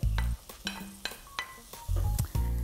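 Tomatoes and meat hit a pan of sweating onions, giving bursts of sizzling and frying with scraping stirs in between, close and moderately loud.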